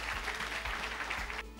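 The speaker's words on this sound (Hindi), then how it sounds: "जोरदार तालियों के साथ स्वागत करें।" An audience at an academy talk gives a steady burst of applause to welcome a speaker, a dense continuous patter of clapping that stops abruptly near the end.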